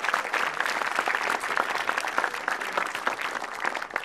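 A studio audience at a stand-up comedy show gives sustained, dense applause that stays loud and even throughout, with a light crowd murmur beneath it.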